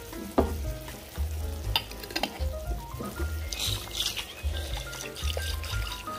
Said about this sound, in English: put a little bit of this pasta water.